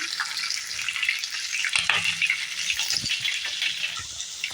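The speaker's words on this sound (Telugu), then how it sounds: "వెల్లిగడ్డ అలా ఫ్రై అవుతుంటే పచ్చిమిర్చి వేసుకున్నాం నాలుగు కట్ చేసి వేసుకోండి ఇలా ఒకసారి బాగా మిక్స్ చేసుకొని కొద్దిగా ఫ్రై చేసుకున్నాం" Garlic and green chillies fry in a pan with a steady, dense sizzle that runs throughout, broken by occasional stirring clatter close by.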